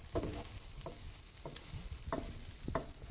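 Onions fry in a pan with a steady, even sizzle, broken by a few soft stirring scrapes and taps at irregular moments.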